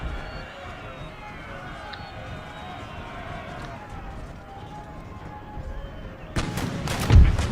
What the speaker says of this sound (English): Oh god, we're actually firing on our own square.